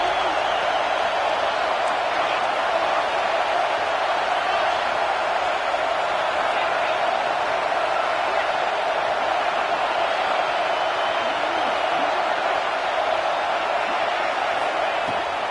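A college football stadium crowd roars steadily on a third-and-goal defensive stand, a dense, loud, unbroken wall of cheering and noise sustained throughout.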